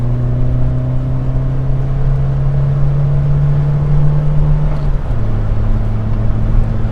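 An Austin Metro fitted with a Maniflow exhaust runs close by, its engine holding a steady, slightly raised hum with a deep, beefy exhaust note before the revs dip near the end.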